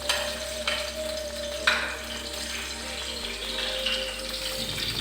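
Fish fries in a pan with a continuous close sizzle, broken by occasional crackles and pops over a faint steady hum.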